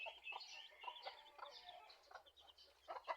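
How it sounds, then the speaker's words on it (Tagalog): Pet chickens cluck in a busy backyard flock, several birds overlapping in short, choppy calls that rise and fall without pause, fairly close and moderately loud, with no talk. "Yan, alaga naming mga manok."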